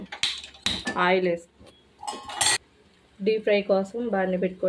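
A metal kadai being set on a home stove for deep-frying puris gives sharp clanks and knocks in short bursts, with a person talking in between.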